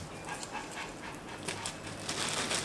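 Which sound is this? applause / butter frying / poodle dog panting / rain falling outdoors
poodle dog panting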